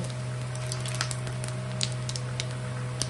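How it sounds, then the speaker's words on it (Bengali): Sliced onions frying in hot oil with bay leaf and cumin seeds for a Bengali Katla fish curry, giving a steady, dense sizzle with scattered small crackles and pops throughout. "এখন এই ঝিরি ঝিরি করে পেঁয়াজ দিয়েছি"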